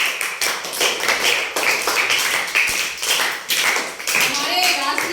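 A classroom of students clapping for themselves, several loud bursts of rapid applause in quick succession with a voice speaking between them.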